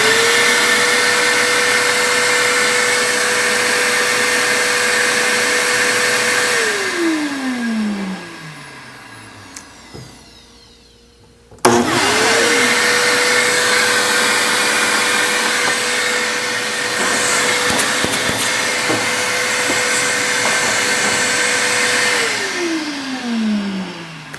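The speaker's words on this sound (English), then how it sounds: "You have to turn the vacuum on." A shop vacuum used for woodshop dust collection runs loudly, winds down to a stop, then starts up again with a sharp surge and keeps running steadily before spinning down.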